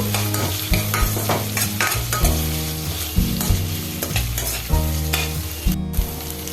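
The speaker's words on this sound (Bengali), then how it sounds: "এবার আলুগুলো এখানে একটু ফ্রাই করে নিচ্ছি।" Boiled potatoes frying in a pan over a low gas flame while ghugni is prepared, with steady loud sizzling and repeated scraping and stirring strokes throughout, close and without speech.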